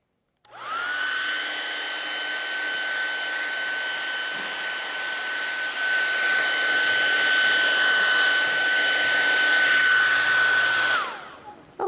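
A hair dryer runs steadily to dry a watercolor painting, a loud, even whine with a constant airflow hiss that starts abruptly, holds for about ten seconds, swells slightly, then cuts off.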